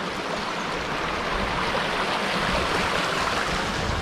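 A river stream flows through Breadnut Recreational Park in Lauders, St. Vincent, giving a constant, full rushing wash of water that stays close and even throughout, with no voices.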